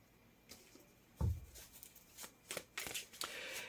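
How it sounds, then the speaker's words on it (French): Tarot cards give soft, faint slides and taps as one card is laid over another on a table. Several light card sounds are heard, with no talk. "J'ai envie de la recouvrir quand même, cette carte-là."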